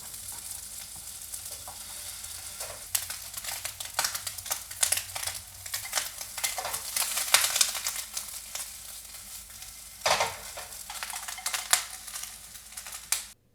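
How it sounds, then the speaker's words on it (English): Food frying in a pan over medium-high heat while cooking Japanese cold ramen (hiyashi chuka): a steady close sizzle with crackling pops and bursts throughout, no talking. "Now we're just going to cook this in the pan over medium-high heat till it's lightly brown"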